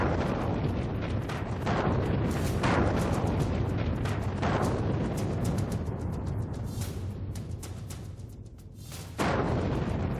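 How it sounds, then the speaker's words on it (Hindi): A large explosion from news footage about Iran, heard as repeated heavy booming bursts and rumbling blasts over a dense, roaring background, loud and distant-sounding, without speech. "अब ये धमाका देखिए"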